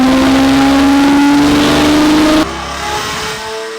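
A rebuilt, once-wrecked Lamborghini SVJ engine accelerates loudly with a steady rising whine, then cuts out abruptly partway through and drops to a lower, fading rumble.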